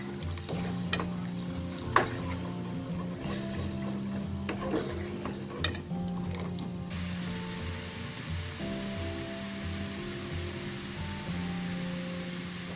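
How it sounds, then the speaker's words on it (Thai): Thai jaew dipping sauce thickened with concentrated tamarind boils over high heat on a gas stove, giving a continuous close sizzling bubble broken by a few sharp ticks and pops, with a steady low hum underneath. "เดี๋ยวเราจะต้มน้ำจิ้มให้เดือดนะคะ"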